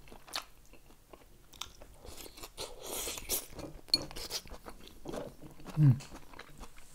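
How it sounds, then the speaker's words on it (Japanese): Someone chews pork kimchi up close, with soft wet crunches and bites in an irregular rhythm and a louder crunch near the end. "食べていきます"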